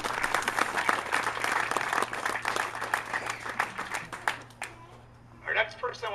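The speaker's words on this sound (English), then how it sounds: "round of applause for you guys" Audience applause at a VFW send-off, a dense burst of clapping that fills the room for several seconds, then tapers off briefly before a short renewed patter of claps and voices near the end.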